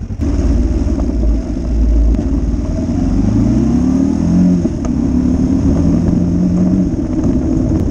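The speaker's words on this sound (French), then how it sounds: "comme l'embrayage il est mort, forcément ça patine et du coup ça n'avance pas" A Kawasaki KLE 500 trail motorcycle with a dead, slipping clutch revs loudly and continuously, the engine note rising and falling in steady sweeps close by.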